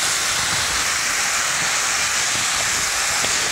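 Diced carrots, onion and celery hit a hot pan and sizzle with a loud, steady hiss, a dense, continuous frying roar close by with no break.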